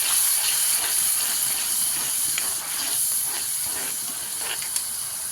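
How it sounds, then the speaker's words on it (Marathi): Tomato and onion roasting in a pan over a low-to-medium gas flame for an egg curry, giving a steady close hiss and sizzle with faint scraping stirs throughout and no talking. "लाल होईपर्यंत ह्याला भाजून घेऊया."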